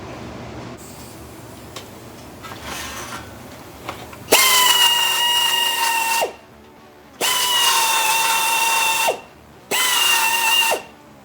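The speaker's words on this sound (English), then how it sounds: "grind down all of these and make sure I get rid of all the burrs on the back side here. We'll just use the 2-inch roll lock for that" A 2-inch roll lock disc on a power tool grinds burrs off the rusty rear frame of a 1970 Challenger. Three loud, steady whining bursts of about two seconds each follow some quieter handling noise, with brief pauses between them.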